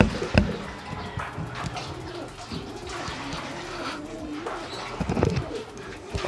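Pigeons coo softly inside a loft, with low, rolling calls repeating at close range and a couple of brief louder bursts, with no speech over them.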